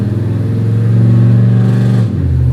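A cammed Chevrolet Silverado shop truck with a new transmission and rear end, still a little low on transmission fluid, holds a loud, steady, lopey engine drone up close, then drops sharply in pitch as it shifts into the next gear.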